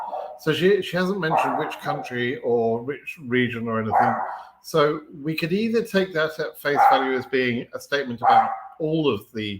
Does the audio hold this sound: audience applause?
no